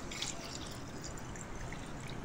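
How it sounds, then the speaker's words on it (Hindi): Water poured from a glass onto rice in a pot for green chickpea pulao makes a soft, continuous splashing pour, fairly faint and steady for a couple of seconds without talk. "उसमें 2 गिलास आपने पानी ऐड करना है"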